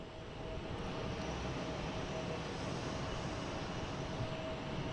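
FedEx cargo plane in flight, a steady distant engine roar holding at an even low level throughout, with no one speaking.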